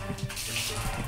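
A bathroom shower runs, giving a steady hiss of spraying water throughout the short stretch, fairly close and continuous, with no speech over it.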